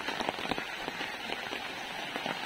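Light rain patters steadily on surfaces around farm animals being fed, a soft, continuous crackling of drops, fairly faint and without any voices.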